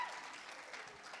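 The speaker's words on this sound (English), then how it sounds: "I think she deserves a round of applause for being such a trooper and doing this with me, guys" Audience applause at a wedding sangeet celebration, steady, fairly faint clapping from a crowd that holds evenly for about a second.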